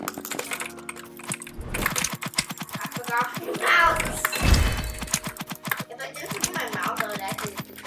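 Rapid keyboard spamming during a Roblox Bedwars game: fast, dense clicking and clacking of keys runs through the whole clip, close and fairly loud, with voices talking over it.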